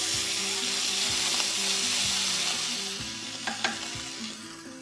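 Whole spices, a slit green chilli and ginger paste frying in a pot, with a steady sizzle, repeated spoon scrapes and stirring knocks, close by.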